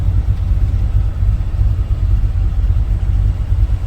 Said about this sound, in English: Still in 4 low, currently neutral, idling back down the hill